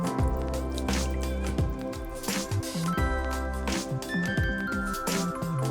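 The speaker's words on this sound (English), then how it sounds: "I'm just going to combine this with the eggs and mix this properly" Vanilla extract and eggs being whisked together for chin chin dough give off wet, squishy, dripping sounds with rhythmic clinks of a utensil against the bowl, close and steady throughout.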